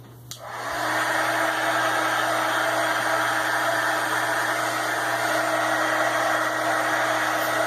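A hair dryer dries white paint before gold is added on a red and gold sun painting, switching on with a click and then blowing as a loud, steady, close hum with a high whine for the rest.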